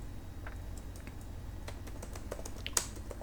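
Keys tapped on a computer keyboard in scattered, uneven bursts of soft clicks, close and fairly quiet over a low steady room hum, with one sharper key strike near the end.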